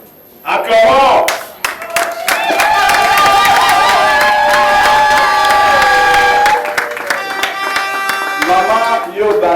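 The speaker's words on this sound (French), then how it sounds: "Acclamons!" Guests at a civil wedding break into sustained applause and cheering for the newlyweds. A crowd claps loudly and continuously over upbeat music, with scattered shouts mixed in.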